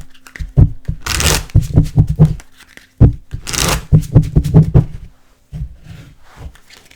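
Twin Flame tarot cards being shuffled close up in several rustling, riffling bursts separated by short pauses, crisp and papery with a faint hum underneath.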